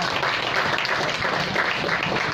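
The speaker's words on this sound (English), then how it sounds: "Please welcome, with a warm round of applause" An audience applauds at a Junior NBA event in the Philippines, a steady dense wash of clapping held at even loudness for the whole stretch, with no voices over it.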